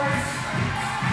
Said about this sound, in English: the crowd start getting behind her